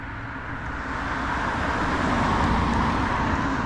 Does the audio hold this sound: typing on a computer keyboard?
no